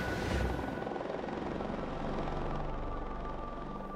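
A rescue helicopter in flight gives a loud, steady rotor throb and engine roar. It holds constant from start to finish with no voices.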